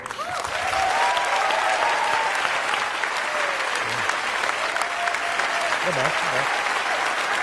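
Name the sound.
applause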